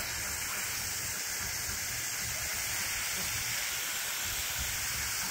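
Hot water rushes out of a hose in a steady, loud hissing gush that holds unchanged the whole time.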